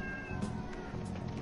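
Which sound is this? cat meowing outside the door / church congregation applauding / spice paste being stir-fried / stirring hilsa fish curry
cat meowing outside the door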